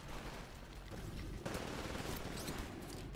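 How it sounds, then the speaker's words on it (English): Bursts of rapid automatic gunfire sound in a Titanfall match, with overlapping volleys and a sharper burst midway, all fairly quiet and with no voices. "Oh, someone's shooting me."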